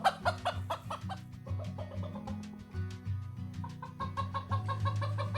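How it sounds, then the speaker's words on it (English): Chickens cluck inside a kitchen on an African homestead, a busy run of close, overlapping clucks and short calls with no talk. "You're really nosy, these chickens. What are you doing in my kitchen? Get out."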